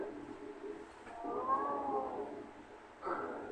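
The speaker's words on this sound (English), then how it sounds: "it's a cat. It is a large, black, magisterial cat." A large black cat meows in a dim room, two drawn-out cries with a short pause between them, fairly close and clear.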